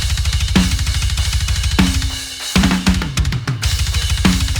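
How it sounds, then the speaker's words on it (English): Isolated drum recording from a thrash metal track, made in an analog studio: fast, relentless double-kick pulses under crashing cymbals and snare hits, with a quick fill midway, loud and close with no other instruments. "The isolated drum sound sounds like this."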